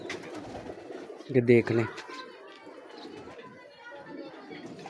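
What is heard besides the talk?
pigeons cooing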